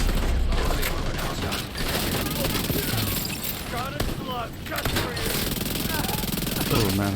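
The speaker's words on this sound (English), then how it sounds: "the guy hits hard with that shotgun" Shotgun gunfire in the video game The Division 2, dense overlapping shots and combat noise running throughout, with someone talking over the fight.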